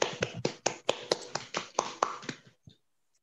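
A classroom of students claps in applause: about a dozen sharp, evenly spaced claps in a steady rhythm that stop abruptly, with no talking.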